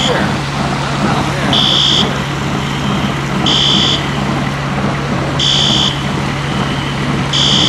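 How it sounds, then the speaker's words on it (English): A fire alarm at Mill 180 goes off in loud repeating electronic beeps, about every two seconds, over a constant heavy background roar. "I know how to turn off fire alarms."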